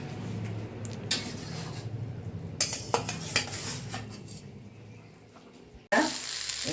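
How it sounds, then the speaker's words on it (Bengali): Fried fish goes into boiling water in a pot for a broccoli fish curry, with close metallic clanks of utensils against the pot over a soft bubbling sizzle, ending in a sharp clatter. "বন্ধুরা এদিকে জল ফুটে গেছে, ভেজে রাখা মাছগুলো সব দিয়ে দেবো।"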